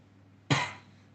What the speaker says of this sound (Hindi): मेरा भी खांसी हो रहा है